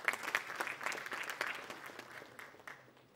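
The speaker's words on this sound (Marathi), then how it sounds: "एकदा जोरदार टाळ्या महेश सरांसाठी सुद्धा वाजूया." Applause from the audience at a TV show launch event, a fairly soft, dense patter of clapping that fades toward the end.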